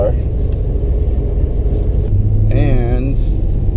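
A Pontiac G8 with a 416 stroker LS3 engine drones with low rumble from inside the cabin during its break-in period, steady road noise throughout, with a voice briefly speaking over it.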